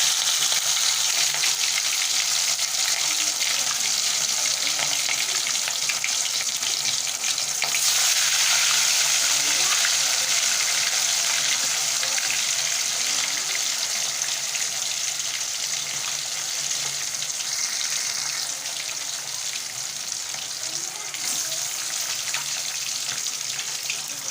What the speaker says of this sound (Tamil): இப்போ மீன் நம்ம வறுத்துடலாம்.